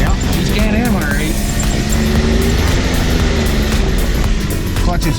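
A Can-Am Maverick X3 Turbo XMR runs close by, its engine humming steadily with rising and falling clutch whine, while people talk over it in the cold outdoors.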